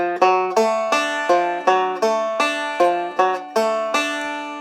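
Acoustic guitar single-string pattern picked with thumb and index on the 4th string: a steady run of plucked notes about twice a second, each sharp attack ringing into the next, clear and close with no talking.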